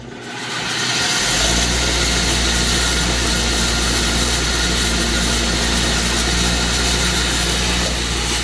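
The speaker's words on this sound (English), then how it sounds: "I'm going to hit them all on the wire wheel like that and just clean them up a little bit." A wire wheel cleaning engine head bolts for a Hammer 1275 kit install spins up and keeps running as a steady, dense whirring hiss. It is close and continuous with no speech.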